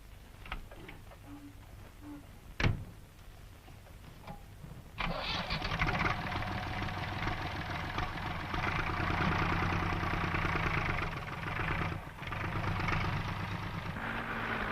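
A Massey Ferguson 500 series tractor, such as the 550, pulls a muck spreader on a farm. Its engine drones at a steady mid pitch. After a brief knock, it jumps louder at about five seconds and holds a full, close rumble to the end.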